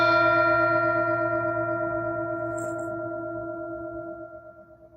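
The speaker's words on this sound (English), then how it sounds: "Enjoy the bell." A mindfulness bell is struck once during a contemplative Bible study, its bright, resonant tone ringing out alone and decaying slowly over several seconds with a long, shimmering sustain.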